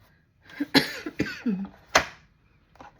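A person coughs several times in quick, harsh bursts, close and loud, with short pauses and a fainter final cough.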